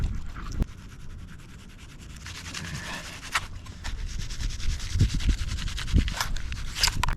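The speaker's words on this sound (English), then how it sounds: "I'm gonna fillet this trout" A knife working along a creek-caught trout while it is filleted gives soft, irregular rubbing and scraping strokes, close and fairly quiet, with a few sharper scratches.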